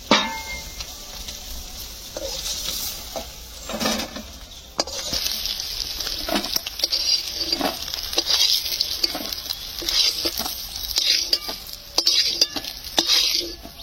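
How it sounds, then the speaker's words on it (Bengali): Small crabs frying in oil in a pan with potatoes, stirred with a spatula; continuous close sizzling with frequent scraping and clinking strokes against the pan, no talking. "লালি ভাব হয়ে এসে গেছে, পরিষ্কার ভাজা হয়েছে, খুব সুন্দর ভাজা হয়েছে"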